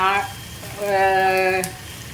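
Ingredients for masala dosa sauté in a pan with a close, steady sizzle, while a voice hums or speaks over it.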